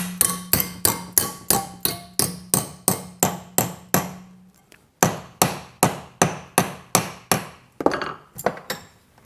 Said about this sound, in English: Piece of offcut, 16mm. 5/8 wide. Let's give that a 90-degree bend.